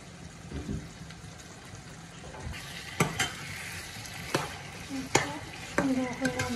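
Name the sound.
shrimp frying and being stirred with spices and bottle gourd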